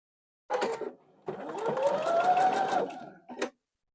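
A sewing machine stitches quilt block pieces together in two steady bursts, a short run followed by a longer continuous stretch, with a brief tail at the end; no talking.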